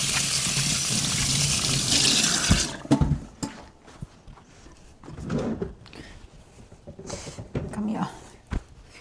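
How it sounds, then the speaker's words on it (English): Hands being washed under a running tap in a home kitchen, a steady loud rush of water for the first few seconds, then stopping into quieter clatter and movement with a voice talking. "Washing hands"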